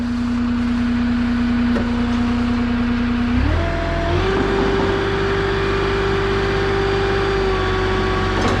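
A forklift at a construction site runs steadily while its forks extend, a loud constant engine drone that shifts pitch upward partway through as the hydraulics engage, with no talking.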